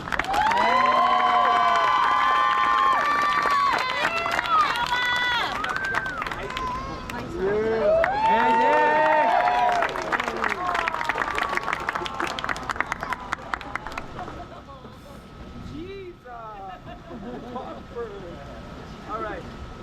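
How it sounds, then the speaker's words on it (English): A school crowd at a Newark senior night cheers, shouts and claps for an honoree, loud and sustained at first with excited voices, then thinning out toward the end. "So big round of applause for him."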